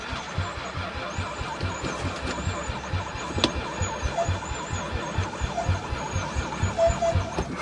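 An old van's engine cranks over and over on stale gasoline poured down its rubber intake tube, a steady rhythmic churn with a high squeal running through it, close and loud, with no talking.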